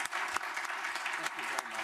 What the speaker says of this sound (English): Board members, please join me in a round of applause for Chief Judge Popejoy.